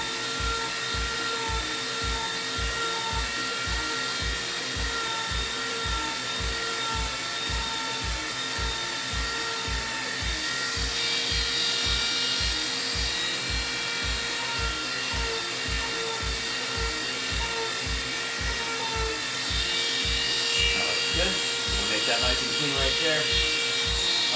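A Dremel rotary tool grinds steadily on handmade costume armor, a continuous high buzzing whine with a pulsing low rumble running under it for the whole stretch, close and loud.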